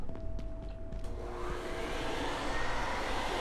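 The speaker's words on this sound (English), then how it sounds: "You cannot suck it up with the vacuum." A vacuum cleaner runs steadily in the video game Abiotic Factor, a loud, continuous whooshing drone with a faint tonal whine that swells slightly and holds without pause.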